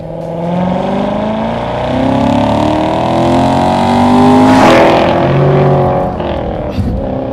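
A Corvette with optional Magnetic Ride suspension cruises along a road, its engine a steady, loud drone with shifting tones and a brief swell of revving midway, continuous throughout without speech.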